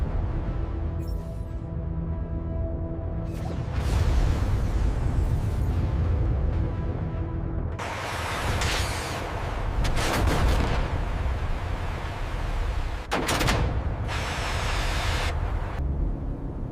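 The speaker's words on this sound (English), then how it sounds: "Launching now. Control, track is hostile. Requesting launch authorization. Weapons free. Interceptor away." An interceptor missile launches with a deep, sustained roaring rush and several heavy booming bursts, loud and continuous with no voices.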